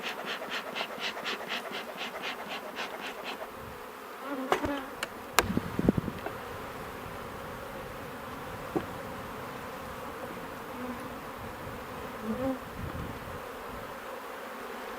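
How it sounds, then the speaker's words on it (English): Honey bees buzz steadily around an opened beehive, a dense close droning hum with occasional knocks and scrapes of equipment, and no talking. "Now they are getting a little bit excited, but overall the bees have been pretty good to me so far today"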